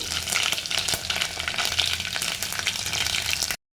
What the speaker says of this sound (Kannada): ಸಾಸಿವೆ ಚಟ್ಟಪಟ ಚಟಪಟ ಅನ್ನಬೇಕು ಸೊ ಸಾಸಿವೆ ಸಿಡಿಬೇಕು